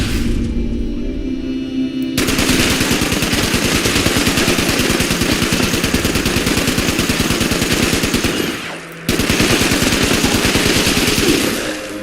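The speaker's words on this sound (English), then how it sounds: "Automatic weapon for them robots." An automatic weapon rattles continuously at robots in a video game, loud and close, with a brief pause before the rapid fire resumes.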